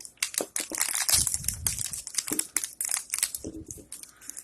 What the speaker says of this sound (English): You should be able to peel this label completely off.